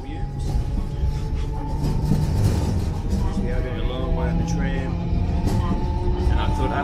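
A tram ride in Sapporo, Japan, in winter heading toward the mountains: a continuous low rumble of the car with rattles and a brief high wheel or brake squeal, and voices talking at points.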